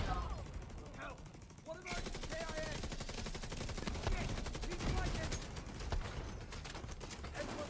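In The Division 2, turrets trade rapid automatic fire in a dense, continuous stream of sharp shots. A player talks briefly at the start before the gunfire takes over.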